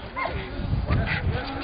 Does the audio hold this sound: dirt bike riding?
no